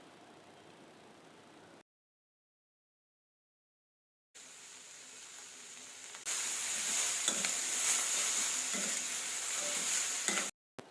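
Vegetables sizzle steadily in a hot pan, a soft crackling hiss that cuts out briefly, then returns louder and denser for several seconds.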